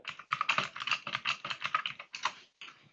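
Rapid clattering keystrokes on a computer keyboard, typed in quick uneven bursts with a short pause near the end, close and fairly quiet with no talking.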